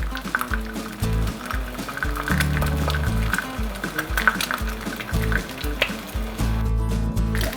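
An egg sizzles and crackles steadily in a carbon steel clad egg pan, a dense, continuous frying hiss with small pops, heard close and without talk.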